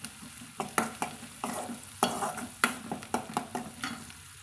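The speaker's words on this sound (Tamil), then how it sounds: "சேர்த்திட்டு அதையும் கலந்து விட்டுக்கலாங்க." Onions frying with a pinch of turmeric powder for a mudakathan keerai stir-fry are stirred in a rhythmic series of scraping strokes over a soft sizzle, close and fairly quiet, with no voice.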